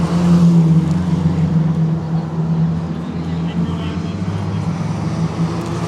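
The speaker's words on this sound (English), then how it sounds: "There's plenty more cars coming down pit lane now." Endurance race cars rolling down pit lane, engines humming and droning steadily nearby, with a slightly louder surge at the start.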